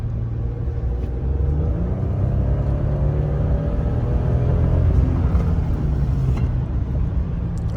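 A Ford F-150 pickup's stock 2.7-liter EcoBoost engine rumbles low and builds steadily as the truck accelerates in sport mode at night, with a swelling growl and no talking.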